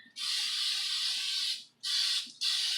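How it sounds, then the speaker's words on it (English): Olive oil spray hisses from a can into the inside of a bowl in three close bursts, one long followed by two short, in a quiet room. "we're going to spray the inside of the bowl so that when it rises, it doesn't stick all the way to the sides"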